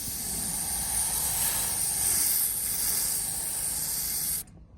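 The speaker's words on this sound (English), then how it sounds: "Just a quick little mist coat for" An aerosol can sprays a quick, steady mist coat onto a faded Porsche 944 dashboard, a loud continuous hiss lasting several seconds with no talk before it cuts off abruptly near the end.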